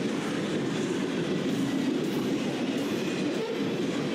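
A Norfolk Southern freight trash train rolls past close by, a loud steady rumble of wheels and cars with faint rail clatter and no voices.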